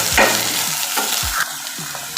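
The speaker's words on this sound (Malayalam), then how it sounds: "സ്പൂണിട്ട് നല്ലപോലെ മൂക്കണം" A spoon scrapes and stirs onions sautéing in a pan, with short repeated strokes over a steady sizzle and no talk.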